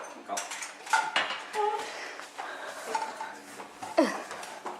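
Knife chopping food on a board in a home kitchen while cuzzuola is being made, heard as a few sharp clattering knocks and utensil clinks, close by, with people talking throughout.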